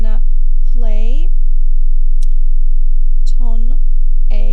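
A loud, steady, very low test tone for tinnitus frequency matching plays continuously, with someone speaking in short phrases over it.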